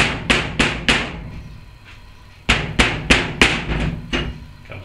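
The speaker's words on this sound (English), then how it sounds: "Just gently tap that with a rubber." Rubber mallet gently tapping a part loose on an overhead valve engine during teardown, heard as two close groups of four sharp knocks in a steady rhythm, separated by a short pause.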